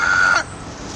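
A person imitates a crow with a single loud, raspy caw. It is close and lasts under half a second, then stops abruptly.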